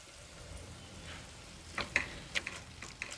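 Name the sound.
ginger and garlic sautéing in a pan for pav bhaji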